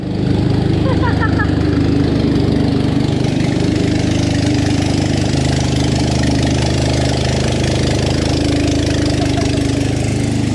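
Nissan 370Z engine idling at close range, a steady low rumble with a slightly lumpy, bubbling rhythm that holds for the whole stretch, with faint voices in the background.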